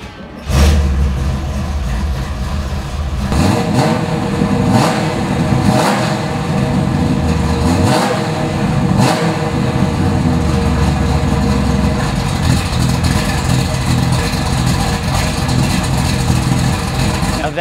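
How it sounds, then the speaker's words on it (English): A 1969 Chevrolet Camaro SS350 convertible's V8 cranks and fires up, then settles into a loud, close, lumpy idle with a few throttle blips early on, rumbling steadily throughout. "I want to start it because this particular Camaro, since it's one of our most popular units, sometimes sound different than others, and this car sounds great."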